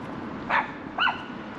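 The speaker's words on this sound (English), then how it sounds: "Annoying yappy dog." A small yappy dog gives two short, sharp yaps about half a second apart, heard at moderate distance over quiet outdoor background near a canal in Thornton-in-Craven, North Yorkshire.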